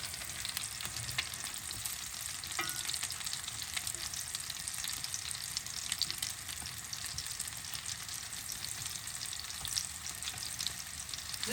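Battered cauliflower pieces sizzle and crackle steadily in hot oil in a pan, a constant quiet frying hiss with small pops, no voices.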